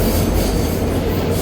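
Udaya Devi Express train pulling into Polonnaruwa station, a steady loud rumble of wheels on rails with rolling clatter and faint squeal, continuous and close throughout.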